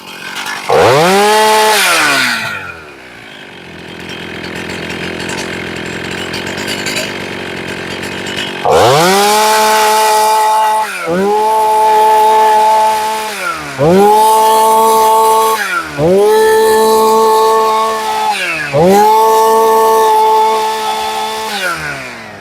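Chainsaw in the 272/268/266 class revving repeatedly at full throttle after tuning, a loud, close, high-pitched engine scream that rises and falls in about six bursts with brief drops to idle between, no speech.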